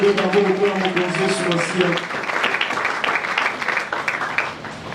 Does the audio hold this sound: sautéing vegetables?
no